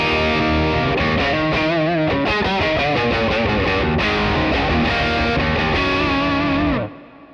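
Electric guitar runs through an effects pedal into the purple high-gain channel of a Rev amplifier, producing a loud, continuous distorted chorus-washed passage with chords and notes ringing for about seven seconds before cutting off.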